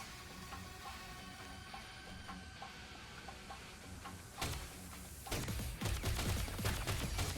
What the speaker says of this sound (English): The guns that look like they could shoot nets or even bombs, they're shooting lasers.